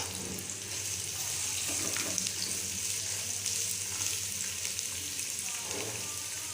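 Chopped vegetables, including capsicum cut lengthwise, frying on high heat in a pan, giving a steady, even sizzle that runs throughout with faint clatters of stirring.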